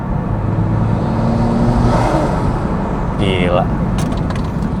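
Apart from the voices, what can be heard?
modified car engine with MST exhaust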